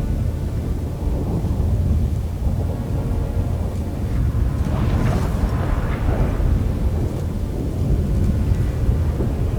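A rolling thunderstorm in The Witcher 3 game, with a steady loud rumble of thunder and rain swelling midway, no voices over it.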